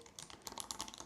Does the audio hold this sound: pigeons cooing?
no